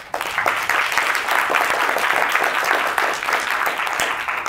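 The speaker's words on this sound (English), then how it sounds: "join me in giving a big round of applause and a thank you to our panelists" An audience at a policy panel on North American manufacturing claps for the panelists, a loud, steady burst of applause close by with no talking over it.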